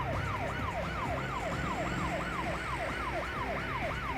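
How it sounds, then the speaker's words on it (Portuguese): A TV news program's siren sound effect: a rapid, repeating up-and-down wail cycling evenly and loudly, with no talking over it. "reforça a Sirene mais uma vez"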